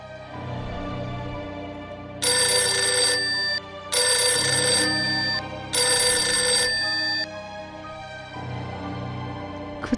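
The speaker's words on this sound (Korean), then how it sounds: "인터폰 소리가 들리더라고." Intercom ringing used as a horror radio-drama sound effect: three loud bursts of bright electronic ringing over a low ambient music bed.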